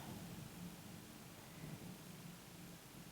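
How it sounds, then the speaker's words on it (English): A low, distant rumble of thunder rolls through steady rain noise, faint and continuous with no talking. "Did you hear that thunder?"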